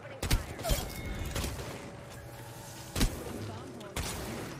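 Gunfire from the Apex Legends video game, sharp isolated shots and short bursts spaced a second or so apart, fairly quiet, over a faint mechanical game background.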